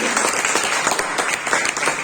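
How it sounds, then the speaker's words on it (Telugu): Steady applause from a crowd, many hands clapping densely and evenly for a couple of seconds without a break. "బిగ్ క్లాప్స్ అండి మీ అందరి కోసము"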